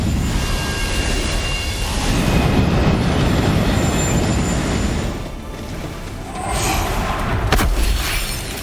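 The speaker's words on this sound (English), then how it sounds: "This train beast seems to be doing everything in its power to prevent you from recovering Krieg's memories of Maya." A train beast in Borderlands 3 rumbles steadily with a heavy rolling roar and metallic screech, swelling and easing across the clip, with a sharp clank near the end.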